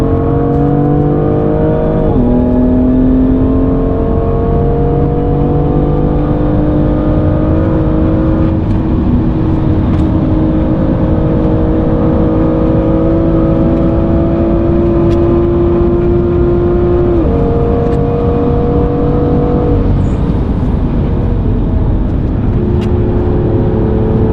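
A BMW M2 NLS race car runs on the Nürburgring Nordschleife, its engine droning loud and close from inside the cabin, with gear shifts marked by brief dips and pitch steps as revs climb and settle.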